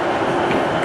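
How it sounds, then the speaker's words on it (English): A passenger train running on a Lancashire railway line toward Heysham, a steady rumbling roar of wheels on track heard close and continuous throughout. "This is the one train a day that goes to Heysham and back."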